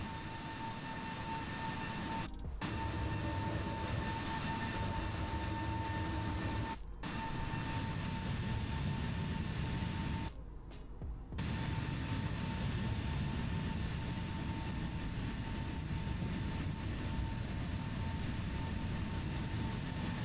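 A330neo jet engines heard up close in Microsoft Flight Simulator at Lisbon, a loud steady roar and whine with a constant high tone, broken by a few abrupt brief dropouts.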